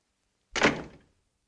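A door in a 1942 film scene is shut with a single solid thud, one short slam that decays quickly, with no talk.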